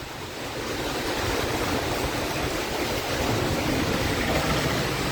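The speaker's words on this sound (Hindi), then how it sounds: "तेज बारिश, तेज हवा, बिजली भी तेज चमक रहा है" Heavy rain roars continuously with strong wind gusting through it during a storm with lightning in Hazaribagh, a dense, loud wash of noise without any voices.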